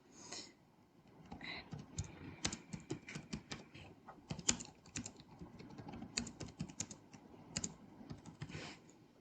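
Quiz questions typed on a computer keyboard, a quiet, irregular run of close key clicks and taps spread across the whole stretch, with no talking over it.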